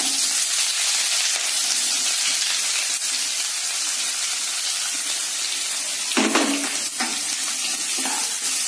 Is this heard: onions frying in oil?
yes